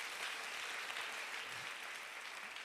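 A church congregation applauding together at a service, a steady wash of many hands clapping that holds evenly for the whole stretch, fairly distant and diffuse, with no voices standing out.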